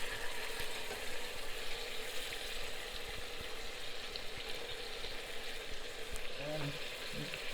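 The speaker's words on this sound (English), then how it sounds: "so now you keep frying the masala and the meat" Meat and masala sizzle steadily in a hot pan while frying for a pepper water chilli fry, a continuous close crackling hiss with a brief voice near the end.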